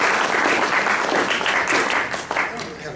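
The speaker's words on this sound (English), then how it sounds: "A round of applause for Dr." Audience applause for Dr. Roger, loud and dense clapping from a crowd that holds steady, then thins out near the end.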